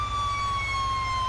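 A police-style emergency vehicle siren from a modded GTA V game wails steadily and loud, a sustained rising-and-falling tone over a constant low engine rumble, with no talking.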